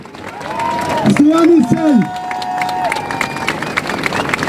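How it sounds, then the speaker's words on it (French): An audience at a conference talk on climate finance gives a round of applause, a dense patter of claps running under a voice that speaks over it. "On peut l'applaudir."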